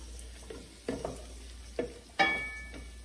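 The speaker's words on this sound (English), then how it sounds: "Give that a stir" Broccoli and garlic being stirred in a pot: a handful of scraping, clattering strokes, one every second or so. Each stroke is soft, and the last one is the loudest.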